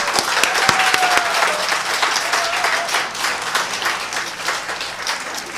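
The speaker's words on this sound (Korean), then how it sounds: "예, 박수!" Church congregation applauding during a worship service, a dense, steady wash of many hands clapping at once, loud and sustained with faint overlapping voices.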